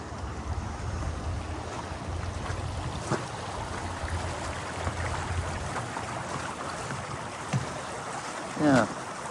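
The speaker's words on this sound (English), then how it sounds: "Yeah, fair bit of water in this creek." Water flowing steadily in a creek along a walking trail behind memorial gardens, a soft continuous rush heard fairly quietly, with faint footsteps and a brief louder bump near the end.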